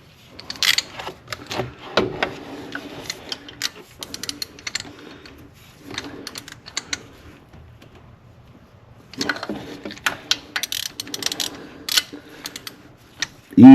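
A hand tool levers against the belt tensioner on a Mercedes-Benz E350 3.5L engine, giving scattered metallic clicks, ratcheting and clanks in short bursts. The sounds are close, with pauses between them and no speech.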